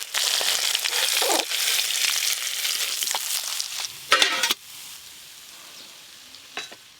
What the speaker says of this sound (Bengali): এই মাছগুলো ভাজা হয়ে গেছে, তুলে নেব